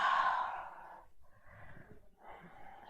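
Deep, slow yoga breathing during a gentle vinyasa flow: one long, airy exhale, then two softer breaths after a short pause, close and quiet with no talking.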